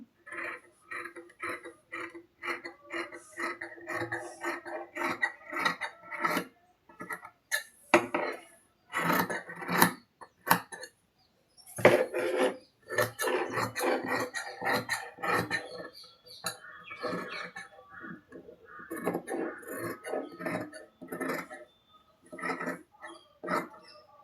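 Scissors cut through blouse fabric in a run of close, crisp snips and rustles at a steady rhythm, with short pauses between bursts and no voices.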